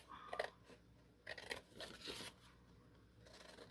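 Scissors snip through paper at a craft table in several quiet, crisp cuts with rustling between them, close and alone.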